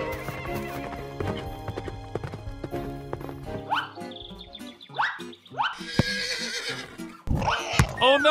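Steady clip-clopping hooves over bouncy video game music give way to a couple of loud, shrill horse whinnies near the end.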